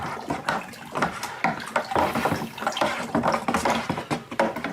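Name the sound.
stirring apple pie moonshine mixture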